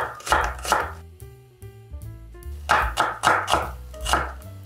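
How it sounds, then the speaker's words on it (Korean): Onion, a medium-sized one, is cut into thin strips with a knife on a cutting board, giving a quick series of close, crisp chopping taps in uneven bursts, heard alone. "양파는 채를 썰어 줄 거예요"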